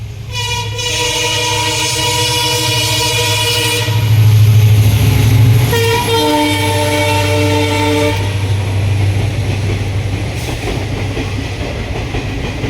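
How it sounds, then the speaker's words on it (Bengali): A passenger train and then a freight train pass a level crossing on the road from Jalpaiguri toward Gangtok, with loud, close horn blasts over a continuous rumble and rattle of wheels. "প্রথমে একটা ট্রেন চলে গেল তারপরে আবার একটা মালগাড়ি ঢুকছে"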